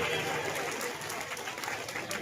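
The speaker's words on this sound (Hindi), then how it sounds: "ताली" Audience clapping at an Odia felicitation event honoring a playwright, a fairly faint, scattered patter of hands with some crowd murmur underneath.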